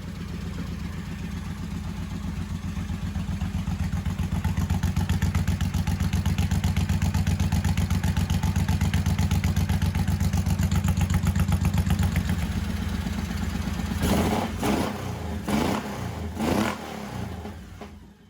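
A 1985 Honda VT1100 Shadow V-twin idles loud and close with a steady rapid pulsing throb, then a few sharp blips and sputters near the end as the engine stumbles.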